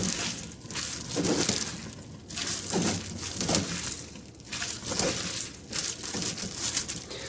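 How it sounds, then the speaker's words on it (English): Wet crunching and squishing as rinsed, salted chopped vegetables for chow chow relish are squeezed by hand to press out water, in repeated squeezes of a few seconds each, fairly close and soft. "And then I'm going to squeeze out the water."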